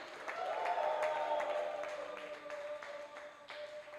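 Church congregation applauding the Spirit of God during a sermon, a sustained wash of clapping with a faint held tone running beneath, steady throughout and fading slightly toward the end.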